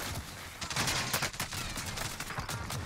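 Rapid gunfire from the video game Call of Duty, dense bursts of automatic shots fired close and loud in quick succession, with a voice briefly underneath.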